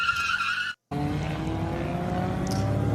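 Small 30-gram toy race cars, among them an Alfa Romeo body, run down a gravity track in a heat. There is a steady rolling, whirring roar with skidding tones, broken once by a brief dropout near the start.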